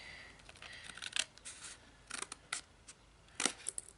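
Scissors cutting a piece of card for a fortune cookie box craft, several crisp snipping crunches in short irregular bursts, close and quiet with no talk.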